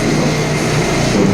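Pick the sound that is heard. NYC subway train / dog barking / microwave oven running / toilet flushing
NYC subway train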